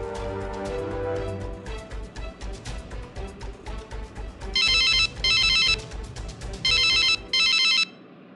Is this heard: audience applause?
no